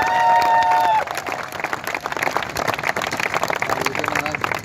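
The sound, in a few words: audience applause at poetry event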